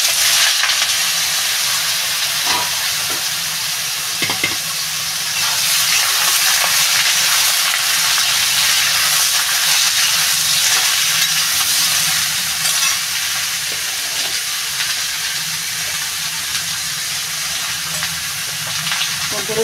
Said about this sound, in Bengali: এবার বন্ধুরা লাউটা ঢেলে দেবো।